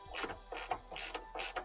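A ratchet tightens bolts on a tail tidy being fitted to a 2023 Yamaha MT10 motorcycle, giving four quick bursts of rasping clicks at an even rhythm, close and moderately loud with no talking.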